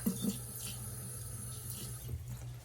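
Tap water runs steadily into a Brita filter pitcher at a kitchen faucet, a quiet continuous splashing stream with no talk.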